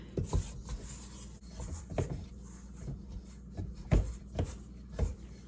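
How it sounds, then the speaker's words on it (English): All-purpose flour being stirred into a sourdough mix until it forms a shaggy dough, heard as close, soft scraping and thudding strokes in an irregular rhythm with no voice over them. "I'm just gonna mix this up until it's kind of a shaggy dough"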